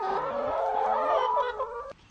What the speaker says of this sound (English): Chickens are flocking to Fredericton.